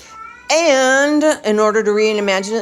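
A pet cat meows loudly and repeatedly in long drawn-out calls close by in a home kitchen, while a person talks over it during crockpot chicken recipe prep.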